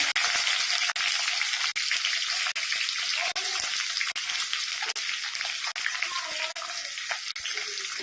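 Chopped onions hitting a hot, oiled pan for a vegetable kurma give a steady, bright sizzle with a crackling, rain-like texture throughout, broken by faint regular ticks; no talking.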